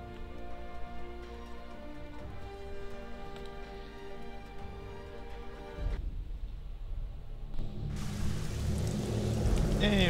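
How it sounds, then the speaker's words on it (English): Steady rainfall in Risen 2, a soft hiss under a tonal musical drone, swelling after a sudden shift into a louder, broader wash of rain with low rumbling toward the end. "Yay, rain."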